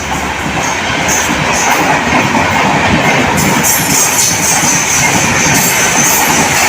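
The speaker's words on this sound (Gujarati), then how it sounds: "રેલ ગાડી આવી રેલ ગાડી" A train rumbles past close by, loud and steady, with rhythmic clattering of wheels on the rails and faint metallic squeals.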